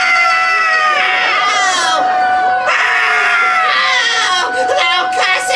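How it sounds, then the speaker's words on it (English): A witch character, Mother Gothel, shrieks loudly in a Disneyland Tangled stage show at Fantasy Faire, a long wavering high-pitched wail that rises and falls in several drawn-out cries. "Causing Mother Gothel to wither into a shrieking old hag"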